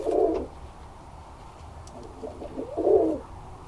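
Birmingham Roller pigeons give two soft coos, one at the start and one near the end, close and clear over a quiet background.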